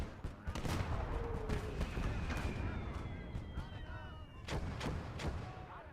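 Repeated artillery fire in a third-person shooter video game, heavy booming blasts overlapping in a dense, continuous barrage with sharper shots cutting through, while people talk over it.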